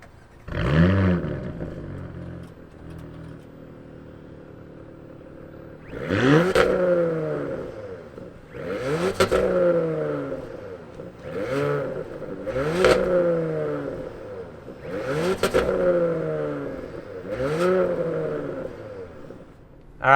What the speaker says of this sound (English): Let's hear what this S6 sounds like.